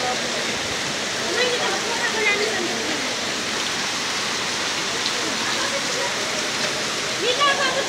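Heavy rain in Batangas pours down in a steady, dense roar that holds for the whole stretch, with voices faintly talking beneath it.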